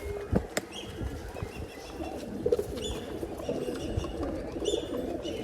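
Male pigeons in a pigeon seller's loft in Bangalore coo with soft repeated throaty calls amid a busy background of other birds, occasional wing flaps and rustling, at moderate level.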